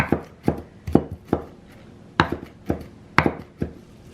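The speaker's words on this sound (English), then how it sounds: "Look at how good it's chopping that." A knife chops food on a board in a quick, uneven series of sharp thuds, close and loud, with no talking.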